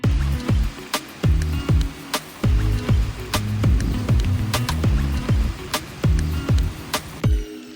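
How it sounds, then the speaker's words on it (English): Rain falls during travel near a bamboo bridge in Pai, Thailand, with scattered sharp drips and taps landing close by, irregular and distinct against a quiet background. "So it started to rain"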